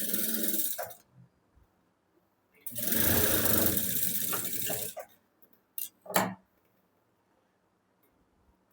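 A sewing machine runs in short bursts while stitching a cup-style blouse, with a long steady whir in the middle and brief starts and stops around it, close and fairly loud, no talk.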